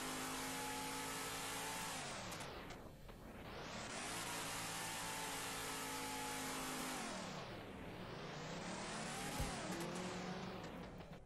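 Car engines roar in a driving video game, revving and accelerating in long sweeping waves with gear-shift dips, loud and steady with no talk.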